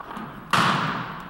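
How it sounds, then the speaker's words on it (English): A single cannon shot from a field artillery battalion's gun salute at a governor's inauguration near the Capitol lands as one sharp, distant boom that decays over about a second. "Gun salute from the 1st Battalion of the 201st Field Artillery."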